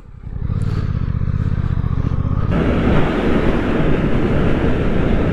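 A 2023 Suzuki GSX-8S motorcycle ridden on a country road, engine note building from a low throbbing idle into loud, rushing wind and engine roar that holds steady, close to the rider with no talk.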